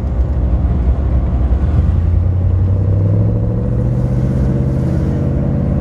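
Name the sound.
1963 Chevrolet Impala convertible engine and exhaust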